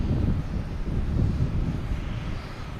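A KLM airliner passes at Boston Logan Airport as a broad, rumbling low roar of jet engines mixed with wind buffeting on the microphone, steady and fairly loud throughout.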